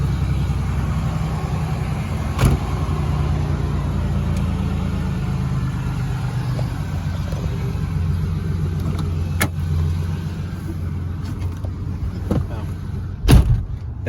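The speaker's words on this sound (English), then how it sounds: "That was a cold start, by the way" A 1990 Pontiac Grand Prix STE engine runs steadily after a cold start, giving a close, even idle rumble with a few thumps. Speech is faint in the background.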